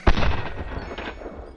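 A single .223 Remington rifle shot firing a Federal Fusion 62 grain bonded bullet, one loud sharp blast at the start followed by a long echoing rumble and decay outdoors.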